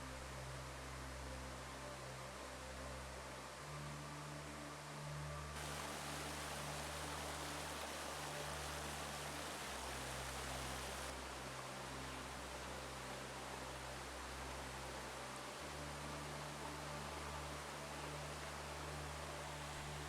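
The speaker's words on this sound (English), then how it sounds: "the sound of the running stream is soothing" A forest stream runs among trees, its water rushing in a steady, broadband wash that stays even and continuous throughout, close and moderately loud with no voices.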